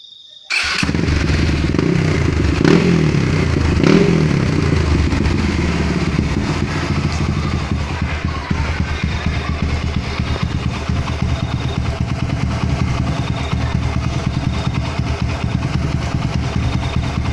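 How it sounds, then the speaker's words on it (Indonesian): A Kawasaki KLX motorcycle engine set up for grasstrack runs steadily and loudly up close, starting abruptly and holding a smooth, even idle with a brief rise in revs early on. "Halus banget guys mesinnya."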